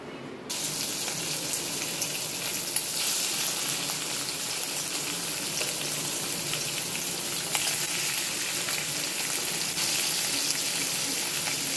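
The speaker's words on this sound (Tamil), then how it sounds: "குட்டி குட்டி க்யூப்ஸாக கட் பண்ணி கொஞ்சம் ஆயிலில் ஃப்ரை பண்ணி தனியாக எடுத்து வச்சுக்கிறேன்" Paneer cubes frying in a little oil in a pan, a steady broadband sizzle that holds fairly loud and even for the whole stretch, with no voices.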